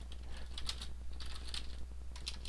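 Fingers type on a computer keyboard, a brief run of close, light key clicks in an irregular rhythm over a low steady hum.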